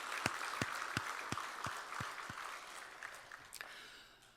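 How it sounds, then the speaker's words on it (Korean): A church congregation claps for God during a Sunday worship service, with a run of sharp, evenly spaced claps standing out over a softer crowd wash before the applause thins and fades. "우리 찬양 받으신 주님께 영광의 박수."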